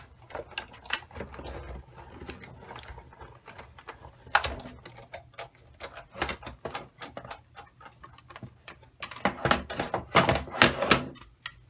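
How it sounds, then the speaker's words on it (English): Big Shot die-cutting machine cranking paper through for a handmade valentine card, a close series of irregular clicks, thunks and rattles that builds louder toward the end, with no talk. "I sandwiched it and threw it through the Big Shot."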